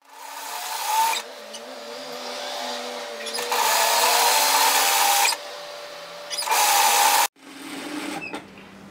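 A sewing machine stitches the long edge of a folded belt strip at a 1 cm seam, in three close, steady whirring runs separated by short pauses.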